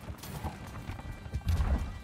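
Horses gallop in The Valiant, a medieval real-time strategy game set among Templars, with hoofbeats clip-clopping close and growing heavier toward the end.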